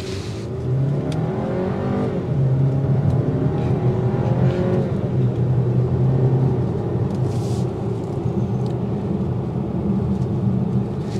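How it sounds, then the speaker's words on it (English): Turbocharged four-cylinder engine of a 2023 Volkswagen Tiguan SEL R-Line accelerating, heard from inside the cabin: a steady rumbling drone with rising engine tones through the pull, continuous road noise underneath. "you got a turbo 4, expect to hear noise in the interior of the cabin"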